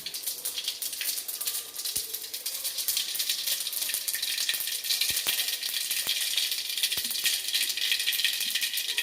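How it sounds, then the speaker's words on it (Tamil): Mustard seeds splutter in hot oil in a pan, a steady close sizzle broken by sharp crackling pops, with no talking. "கடுகு பொரிஞ்சிச்சு."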